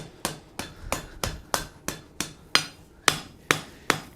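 Hammer blows ring out on hot steel during forge welding at a blacksmith's anvil, about ten sharp, evenly spaced strikes with a metallic ring that fades between each blow.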